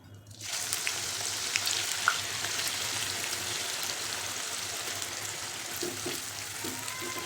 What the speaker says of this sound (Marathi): तर आपल्याला आता हे कांदा तळून घ्यायचा आहे.